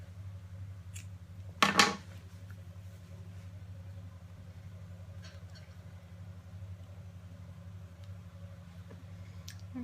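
Scissors snip a yarn end after fastening off a finished crochet piece, one short crisp cut near the start over a steady low background hum, with no talking.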